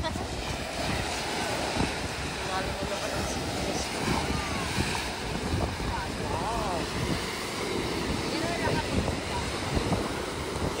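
Sea waves washing onto a beach, a steady dense roar of surf with wind buffeting the microphone throughout, continuous and loud from start to finish.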